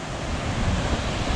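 A small waterfall on a rocky mountain trek gives a steady, close rush of falling water, a dense broadband roar with some wind noise on the microphone and no voices.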